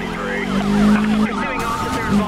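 Police car sirens wail and sweep continuously in the Need For Speed Rivals racing game, loud and close over steady engine noise, with pitch glides rising and falling throughout.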